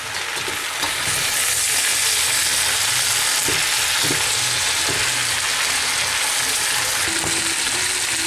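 Spinach and sirloin stir-fry in a hot pan with a splash of water, a loud, close sizzle that jumps up after a second and holds steady, with occasional clinks of stirring.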